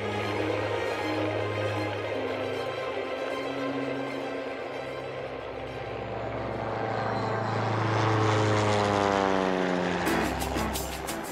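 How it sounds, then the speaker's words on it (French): Propeller airplane flying over the mountains before landing on an alpine meadow airstrip, a steady droning engine hum that swells louder toward the end as it passes near, with no talk. "Jacques et Thierry s'apprêtent à atterrir sur une altisurface, une piste aménagée en pleine nature sur une prairie d'alpage."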